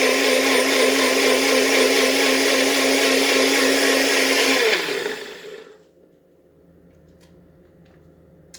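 A Nutribullet 900 Series blender whirs loudly and steadily while blending sesame seed milk, then spins down and cuts off around the five-second mark, leaving near silence.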